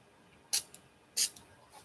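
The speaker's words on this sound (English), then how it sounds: "I'm going to spray with water now." A hand spray bottle of water spritzes over an art board: two sharp, close hissing bursts about half a second apart, each trailed by a small drip-like tick, then a faint third puff.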